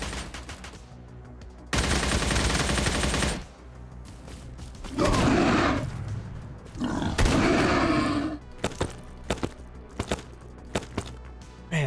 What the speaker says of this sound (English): Just getting shot through trees right now.